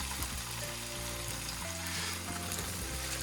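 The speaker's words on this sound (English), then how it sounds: "And slowly put in the tofu. We're going to fry it and brown all sides." Tofu fries in hot oil in a wok, giving a steady, close, crackling sizzle that runs unbroken and fairly loud throughout, with no voices.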